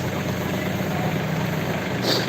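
A farmer's tractor engine drives a blower used to wash village temples, idling with a steady low rumble throughout, close and unbroken.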